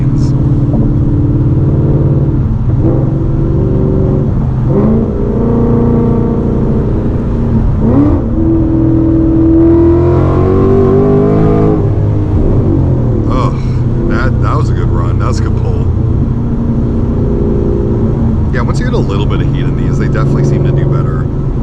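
Car on an E30 ethanol tune launching and accelerating hard, a loud sustained engine roar climbing in pitch, with talking over it.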